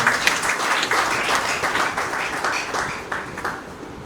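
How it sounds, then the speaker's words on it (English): An audience applauds in a hospital setting, with dense, steady clapping that stays close and fairly loud for a few seconds and then tapers slightly. "So please, a round of applause to yourself."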